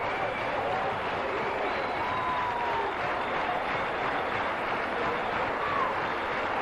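A large crowd at an India versus Pakistan one-day cricket match at Sharjah in 1991 applauds and cheers in a steady, distant wash of clapping and voices that continues without a break.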